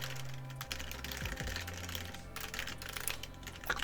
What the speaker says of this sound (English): I can carry on sort of typing underneath any ideas